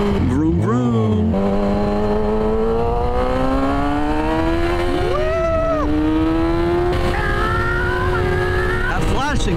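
A Yamaha R6 sport motorcycle being ridden, its engine note climbing steadily through the revs with a few gear-change dips, under constant wind rush close to the rider.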